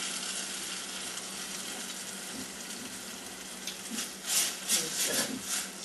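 Tomatoes and tomato paste sizzle in a hot pot for tomato bisque, a steady hiss of frying that swells into louder bursts of crackling and stirring near the end.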